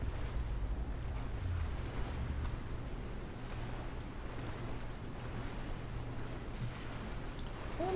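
Low, continuous rumble of water waves and surf with a windy wash from the video game Rise of the Tomb Raider, faint and steady with no voices.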